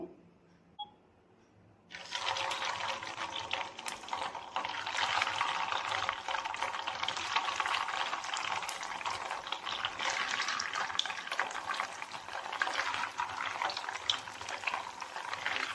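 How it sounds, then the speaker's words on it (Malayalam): Rava vada drop into hot coconut oil and fry with a sudden burst of steady, dense sizzling that starts after a quiet moment and continues evenly at close range. "ഇതുപോലെ ഇട്ട് ഫ്രൈ ചെയ്തെടുക്കുക"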